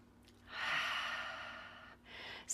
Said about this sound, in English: Take a nice deep breath here.